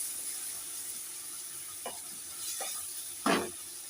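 Poppy seed paste and green chilli paste are stirred in a pan for a jackfruit seed and potato posto, giving a faint, steady sizzle broken by a few soft spatula scrapes and one louder scrape near the end.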